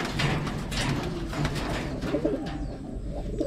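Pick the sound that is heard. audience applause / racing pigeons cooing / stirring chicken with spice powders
racing pigeons cooing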